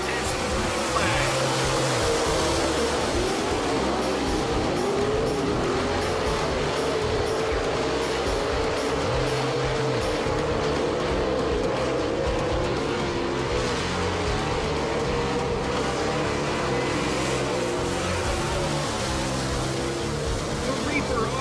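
Dirt track race cars run in Heat 3 with a steady, loud engine roar that swells and fades as the cars pass, while a voice talks over the noise.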